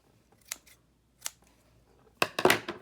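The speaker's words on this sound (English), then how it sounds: "And then you just trim it." Scissors trimming a washi tape tab for a journaling Bible, a few quick close snips spaced apart, then a cluster of sharper cuts at the end, crisp and isolated against near silence.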